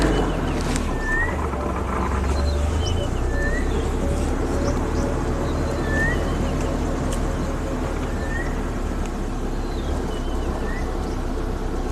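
A wild bird's call repeats several times at a steady interval on a live African safari, clear but moderately distant over a constant low outdoor rumble of vehicle or wind noise.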